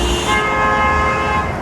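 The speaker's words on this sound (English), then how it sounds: "Hence the honking." A car horn honks at a busy city intersection on Sherbourne Street in Toronto, a sustained toot over steady traffic noise heard from the sidewalk, fairly loud and close throughout.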